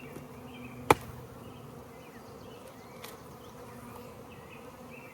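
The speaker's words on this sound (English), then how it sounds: "I'm gonna shake off some of these bees." Honeybees hum in a dense, steady buzz as they are shaken off an old hive lid, with one sharp knock early on and a fainter tap later.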